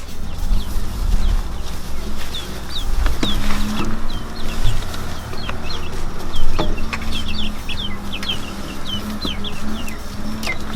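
Hens cluck repeatedly in a backyard chicken coop, short overlapping calls scattered across a steady low background hum, fairly close, with no talking.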